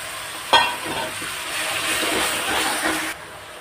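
Tomato paste from three tomatoes frying in oil with ginger, garlic and onion for chhole, giving a steady broadband sizzle after a sharp spitting start, close and loud with no talk.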